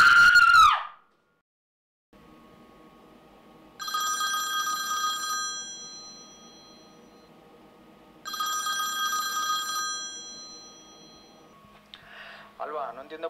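An unanswered telephone rings in two separate bursts of electronic trilling, each lasting over a second, with a quiet pause and a low hum between them. Brief other sounds come at the start and the end.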